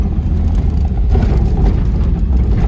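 Saab 900 or Subaru Brat engine with a weird rattle, running steadily while driving and shifting into second gear; a continuous loud low rumble with no pauses.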